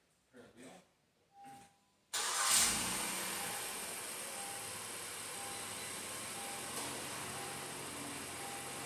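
A Honda Ridgeline engine cranks and catches with a sharp burst, then settles into a steady, even idle close by. A few short sounds come just before the start.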